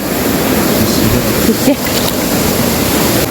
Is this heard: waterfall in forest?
yes